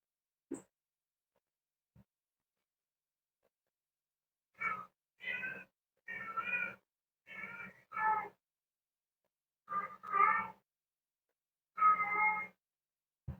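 A cat meows about eight times in separate, fairly close calls spaced a second or so apart, with near silence between them.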